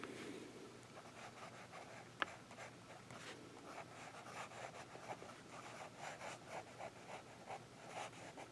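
Lamy fountain pen with a medium nib writing on paper, faint close scratching strokes in an irregular rhythm with one small click, no voices.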